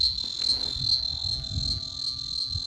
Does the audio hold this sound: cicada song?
yes